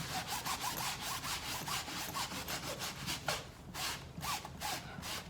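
Luggage scrubbed with a magic eraser, rapid rhythmic back-and-forth rubbing strokes, close and fairly quiet, with a brief pause before the strokes resume.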